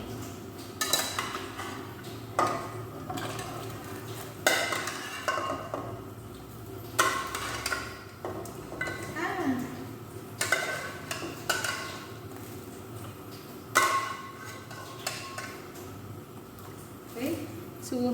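Pieces of pork go into a new metal cooking pot with scattered clanks and scraping of utensils against the pot, moderately close, over steady kitchen background and intermittent talking.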